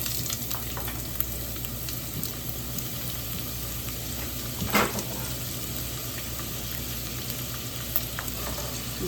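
Onion sizzles steadily in hot oil in a pan, a continuous close crackle and hiss with occasional faint stirring, no voices.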